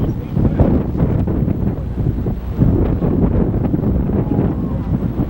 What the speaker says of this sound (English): Got a strong north wind.